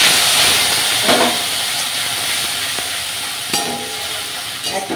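Onion and tomato masala frying in a pan, a loud close hissing sizzle with steamy spitting and a few brief stirring scrapes, fading slightly over a few seconds.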